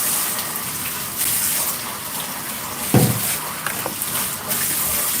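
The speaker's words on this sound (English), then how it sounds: "I'm gonna rinse my hand" Tap water runs steadily over a hand being rinsed at a sink, a continuous close gush with a brief louder splash near the middle and small shifts as the hand moves through the stream.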